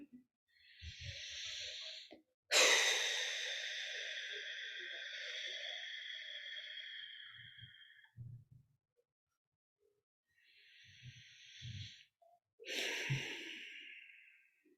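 Slow, deep breaths taken during a seated guided relaxation: a soft inhale, then a long, drawn-out exhale lasting several seconds, followed by another breath in and out, close and quiet with no talking.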